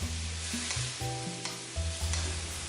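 Four angled beans sizzle steadily in a frying pan with crispy anchovies while a utensil stirs and scrapes them in short, repeated strokes, with no talk.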